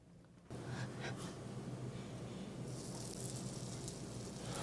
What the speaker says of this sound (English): Here's some vegetable that I'm sauteing.